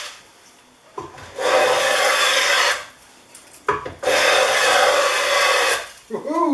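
A Winchester No. 3041 transitional smooth plane shaves wood in two long, loud, rasping strokes of about two seconds each, with a brief pause and a clunk between them, and a quieter scrape at the end.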